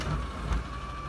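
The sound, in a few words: garbage truck reversing beeps outside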